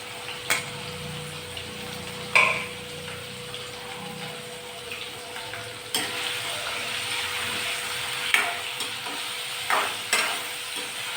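Ivy gourd and halved, seeded vakkaya cook in a pan with tamarind, giving a low, steady sizzle. A few separate sharp clinks of stirring cut in now and then, with no voices.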